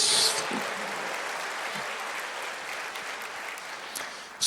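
A church congregation applauds together in a sustained burst of clapping that fills the room, staying fairly even before tapering slightly, with a faint voice at the start.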